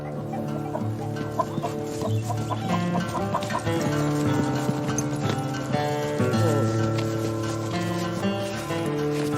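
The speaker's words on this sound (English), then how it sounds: "Mr. Sloan and his filthy chickens." Leghorn chickens clucking steadily on a farm, a continuous moderately loud flock sound with horse hooves clip-clopping in the mix.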